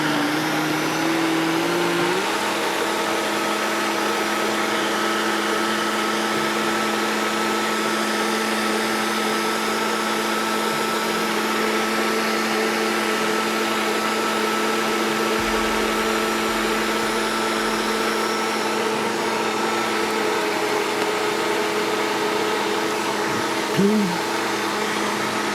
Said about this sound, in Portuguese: aqui em casa a gente bate um pouquinho no liquidificador